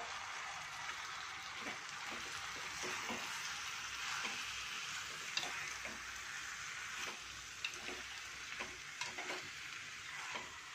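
Half a kilo of turmeric-washed chicken sizzles and fries steadily in a pan, with irregular stirring scrapes and small pops over the constant hiss.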